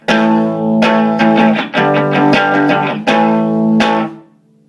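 An electric guitar plays through an amp on its clean channel pushed to volume 2, giving a slightly distorted tone: a series of loud strummed chords with sharp attacks and ringing sustain, ending on a fading chord.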